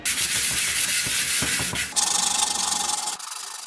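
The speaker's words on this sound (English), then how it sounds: "One sanding pass with the 220 grit sandpaper is really smoothing that out." Steady, close scratchy rasping of 220-grit sandpaper rubbed back and forth on a 3D-printed helmet, loud and continuous, shifting to a smoother, higher hiss partway through.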